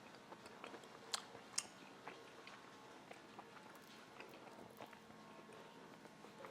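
Someone chews grilled Iberico pork cooked on a kettle grill, with soft wet chewing and a few sharper crunchy bites close to the microphone, quiet and intermittent.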